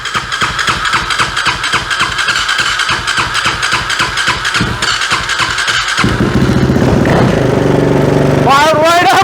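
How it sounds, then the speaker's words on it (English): A KTM supermoto motorcycle on choke cranks in rapid rhythmic pulses, then fires and settles into a loud, close, raspy idle before a revving rise near the end. "Just a little bit of choke, hit the start button."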